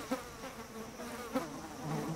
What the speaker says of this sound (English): Bees. Why did it have to be bees or flies?